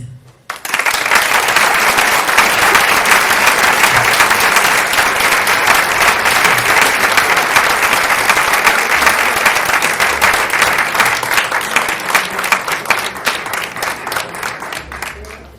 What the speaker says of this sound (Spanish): Suenen para mi compañero y amigo los primeros aplausos de esta gran noche navideña.